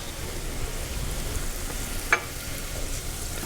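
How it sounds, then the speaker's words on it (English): Garlic sautéing in oil in a pan, a steady even sizzle throughout with one brief sharp click partway through, close and without speech. "So I'm just going to move the garlic around. It's really going to flavor that oil."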